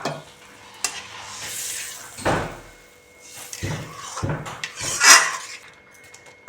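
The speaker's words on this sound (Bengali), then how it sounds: "এই নারকেলের দুধটা আমি দিয়ে দেব" A pan of pointed gourd cooking with coconut milk sizzles and bubbles while a utensil stirs and knocks against the pot, with several sharp clanks and scrapes along the way.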